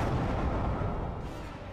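Enemy artillery fire in the space strategy game Halcyon 6 lands as a short, loud, rumbling low boom with no talk over it.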